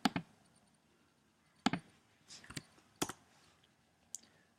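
A computer mouse clicking while a file with transparency is saved in Photoshop: a few sharp, isolated clicks spaced irregularly, some doubled, fairly close and quiet, with no voice present.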